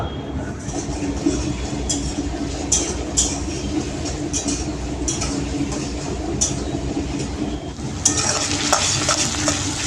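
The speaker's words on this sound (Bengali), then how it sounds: "তো পেঁয়াজটা অনেকটা ভাজা হয়ে গেছে।" Onions fry in a pan with a steady sizzle while a utensil stirs and scrapes, clinking against the metal in sharp intermittent taps, loud and close.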